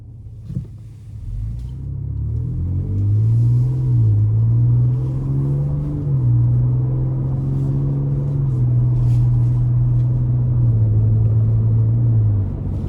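A 2025 Ford Ranger Raptor drives and accelerates, its engine a steady, loud low rumble heard from inside the cabin, the pitch rising as it revs up and holding through the shifts.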